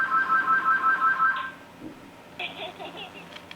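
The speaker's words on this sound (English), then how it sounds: "And the phone's ringing." A toy-review desk phone rings with a steady electronic trill for about a second and a half, loud and close, then stops; faint quieter chirps and handling noise follow.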